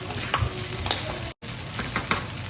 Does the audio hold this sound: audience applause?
no